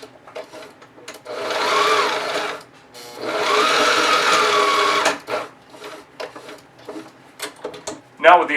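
Two long sustained runs of a sewing machine stitching elastic into a backpack's water bottle pocket, loud and close, followed by scattered handling clicks and brief voice sounds.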